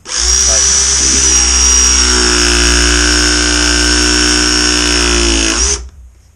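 Viega MegaPress battery power press tool crimping a fitting onto galvanized gas pipe, a loud steady motor whine running for about five seconds before cutting off abruptly.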